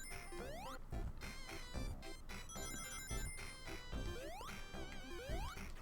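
A phone rings loudly with a bright electronic ringtone melody of rising chirps and repeated tones, steady throughout with no talking over it.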